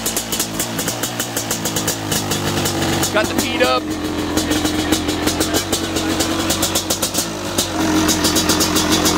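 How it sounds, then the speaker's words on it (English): A motorcycle's billet engine with a billet crankshaft runs loud and close, idling with a rapid pulsing beat and revving higher at times while someone talks over it. "That's a billet engine, boys"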